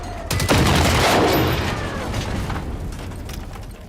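A loud, sustained burst of automatic gunfire in the Generation Zero video game, with rapid overlapping shots that fade into a decaying rumble.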